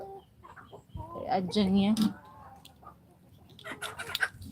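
A chicken on a farm clucks and calls loudly at close range, its voice rising into a brief crow-like cry. A person speaks briefly nearby, and scattered clicks and rustles follow.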